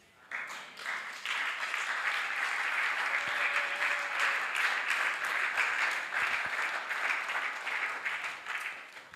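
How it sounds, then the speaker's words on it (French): A church congregation applauding after a sermon point, sustained dense clapping for several seconds that swells quickly, holds steady, then tapers off. "quand je dis ça, ils sont contents, ils applaudissent"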